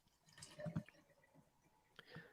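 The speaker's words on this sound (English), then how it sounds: "that was me pouring the rest of my soda into my cup" Leftover soda poured into a cup gives a few faint, short splashy trickles and drips that come in quick bursts, with a small spatter near the end and no talking.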